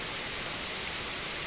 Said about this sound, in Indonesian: ini diguyur hujan oleh yang cukup deras